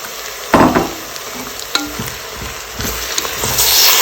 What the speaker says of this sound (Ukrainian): І підсмажую його.